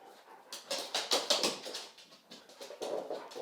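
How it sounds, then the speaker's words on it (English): Dogs play in the background of a home workshop, giving soft whimpers and yelps in short irregular bursts at moderate distance, with no talking. "The dogs are playing in the background"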